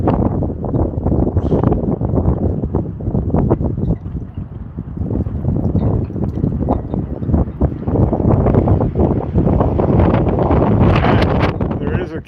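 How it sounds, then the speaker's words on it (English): Strong, gusty wind roars and buffets the microphone continuously outdoors in New Mexico, a dense low rumble with no pauses. "But it's super windy out here."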